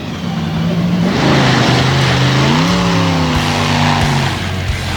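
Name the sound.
off-road race vehicle taking a corner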